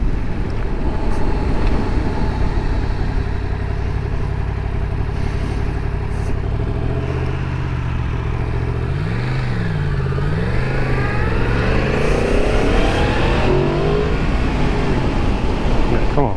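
A 2022 Yamaha MT-10 motorcycle engine roars loudly throughout, rising and falling through revs with sweeping gear-change swoops as it accelerates on the road, heavy wind buffeting over it.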